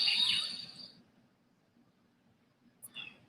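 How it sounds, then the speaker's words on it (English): Birdsong chirps brightly at the start, fading after about a second, then a couple of short faint calls return near the end over quiet background ambience. "You hear those birds tweeting in the background."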